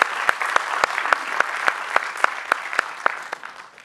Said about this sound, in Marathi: हे मान्य असेल तर टाळ्या हाणावं.